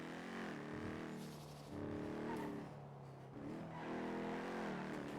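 A video game car in the NoPixel 4.0 roleplay game drives and revs loudly. Its engine tone climbs and drops in repeated surges with no voices over it.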